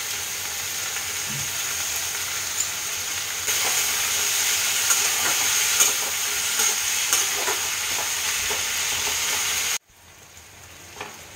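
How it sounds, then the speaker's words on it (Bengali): Small diced potatoes and bitter gourd stir-frying together in a pan, a loud constant sizzle with scattered scraping stirs that swells partway through, then drops off sharply near the end. "এইবার আমি আলু আর উচ্ছেটা একসাথে ভাজবো।"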